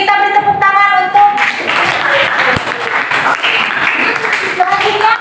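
A crowd applauds with steady clapping for several seconds, while a voice speaks briefly over it at the start and again near the end.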